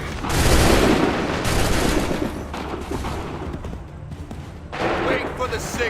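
Gunfire in Assassin's Creed 3, a dense volley of musket-style shots bursting loud and close at the start, then a rumbling, crackling battle din that fades and swells again near the end, with voices mixed in.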